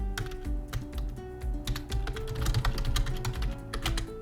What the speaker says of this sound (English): Sorry about the typing here